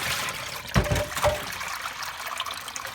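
Soapy water drains out of a Bosch WAE24366 washing machine, trickling and splashing faintly with two brief louder gushes, then settling to a low steady dribble.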